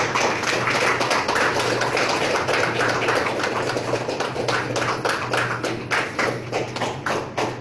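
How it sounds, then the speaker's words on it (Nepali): A live audience claps to welcome a guest to the stage at a literary book launch ceremony, a steady, dense applause that stays strong throughout and then thins into scattered, separate claps near the end. "जोरदार ताली दिएर साथ दिनमा पनि हार्दिक अनुरोध गर्दछु"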